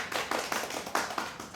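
Clapping from a seminar audience at a Korean closing session, a few rhythmic bursts of hand claps with no talk over them.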